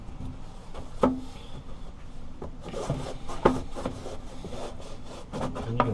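A boat portlight is sanded by hand with coarse-grit sandpaper, a close, gritty rasping rub in uneven back-and-forth strokes, with a few louder scraping accents.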